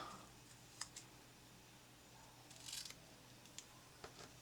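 Scissors snip through a strip of dark maroon paper for planner decorating, a few sharp quiet cuts spaced out over soft background hiss.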